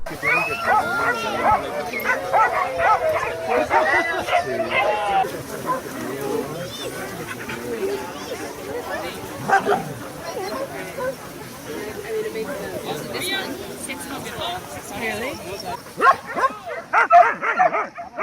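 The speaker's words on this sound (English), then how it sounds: "This is the largest no-kill dog shelter in the world, located in Costa Rica. There's over 600 dogs here" Many dogs at a large no-kill dog shelter in Costa Rica bark, yip and whimper together in a busy, continuous chorus of near and far voices, with a narrator talking over the noise.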